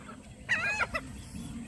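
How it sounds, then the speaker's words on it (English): Birds fighting let out one brief, close, harsh squawking burst of a few quick notes, then the scene falls back to quiet background noise. "Oh my God, look at these birds."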